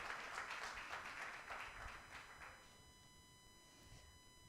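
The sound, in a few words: applause, audience clapping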